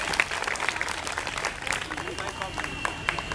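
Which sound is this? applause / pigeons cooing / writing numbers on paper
applause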